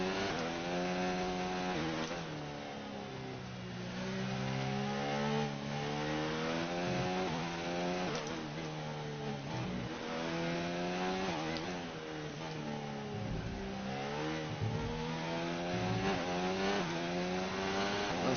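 The Toro Rosso Formula 1 car in F1 2019 drives a fast lap with a continuous high-pitched engine whine, revs sweeping up and down through gear changes and corners, loud and steady with no talk.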